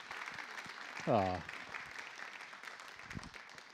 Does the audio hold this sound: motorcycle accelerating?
no